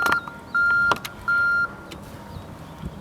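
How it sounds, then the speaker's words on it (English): A forklift's backup alarm gives two clear, evenly spaced electronic beeps of about a third of a second each, with a faint first chirp before them. Light mechanical clatter and ambient noise sit underneath. "Backup alarm."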